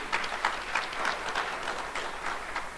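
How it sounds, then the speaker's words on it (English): Audience applause at a retail panel discussion honoring a panelist, a brief steady patter of clapping at moderate level, with a faint voice underneath. "Please clap it up for him."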